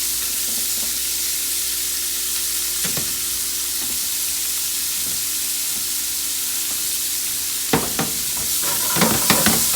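Holy Trinity vegetables for a one-pan jambalaya sizzle steadily in a hot pan, a constant hiss broken by occasional stirring knocks that grow busier and louder toward the end.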